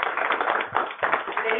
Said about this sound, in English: Can we give all of our speakers a round of applause?